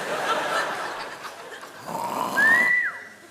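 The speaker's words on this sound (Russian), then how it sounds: "Нет, ну ладно, она храпит." A woman snoring in a comedic sketch, a few rough, breathy snores with a rising whistling tone near the end, fairly close and moderately loud.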